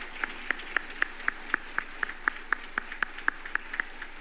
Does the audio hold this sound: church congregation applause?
yes